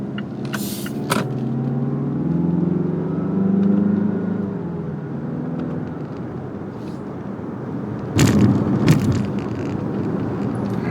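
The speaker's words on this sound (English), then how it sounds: "There's just a lot of engine noise." Steady engine drone and road rumble inside a 2023 Mazda CX-5 Signature Turbo AWD while driving, a medium-toned hum that swells and eases, with a few brief louder bumps.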